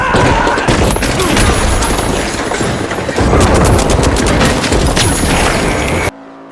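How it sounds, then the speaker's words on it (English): Charge-and-slam ability in The Finals smashing through enemies and destructible walls, a loud sustained barrage of crashing impacts and debris with heavy thuds, cutting off abruptly at the end. "the charge and slam, which can be used to smash enemies and destroy walls"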